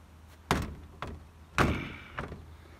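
Suicide doors on an old Chrysler Imperial closing with solid thunks, two heavier slams and two lighter knocks spaced about half a second apart, fairly close and alone.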